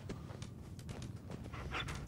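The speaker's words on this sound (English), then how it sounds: "I was probably hearing the dog's footsteps" In Fallout 4, a dog pants in quick, rhythmic breaths mixed with light padding footsteps, close by and moderately quiet, with no talking.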